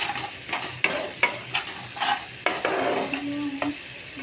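Chopped onions and tomatoes, salted, frying in spiced tempering oil: a close, hissing sizzle broken by a series of quick stirring strokes and scrapes of a spoon against the pan.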